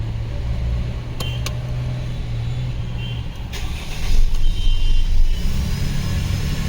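A Mercedes-Benz W221 S-Class engine idles steadily after starting, a constant low hum with a few brief clicks and a slight rise in level partway through.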